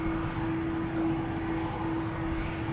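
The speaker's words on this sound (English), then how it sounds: "KLM A330 200. Already spooling up." KLM Airbus A330-200 at Amsterdam Schiphol with its engines spooling up, a steady loud roar carrying a sustained whining tone, continuous and close without voices.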